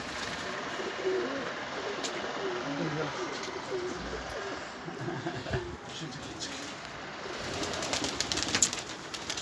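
Pigeons coo softly and repeatedly in the background, their low warbling calls running under steady ambient noise with some faint talking.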